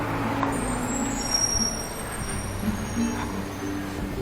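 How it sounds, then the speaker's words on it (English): A truck passes along a street in Havana: a moderate motor rumble and road noise, with a faint hiss or squeal above it. "Truck here."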